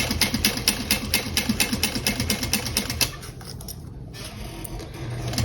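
A sewing machine runs a long basting stitch through a bag pocket piece backed with foam, giving fast even mechanical pulses for about three seconds. Then it stops, leaving a quiet room hum.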